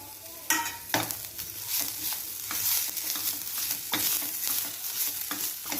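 Garlic, curry leaves and coriander frying for rasam, with a soft continuous sizzle broken by several sharp stirring knocks and scrapes of a spoon in the pan.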